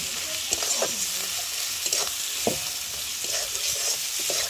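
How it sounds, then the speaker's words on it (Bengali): Turmeric and dried red chilli spices for a chicken curry stir-fried in a hot pan, a steady close sizzle broken by several scraping stirs of a spatula, with no talking. "হলুদ, শুকনো লঙ্কা, মশলাটাকে একটু ভালো করে কষিয়ে নেব।"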